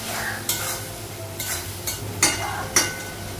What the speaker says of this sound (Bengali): জিরা গুঁড়ো দেব, মশলাগুলো একটু ভেজে নেব।